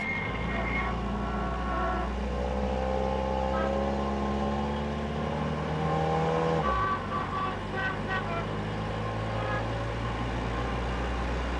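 A vehicle driving along a road, its engine droning steadily with a pitch that rises and shifts, then a sudden change in the tone about two-thirds of the way through, with the engine noise continuing to the end.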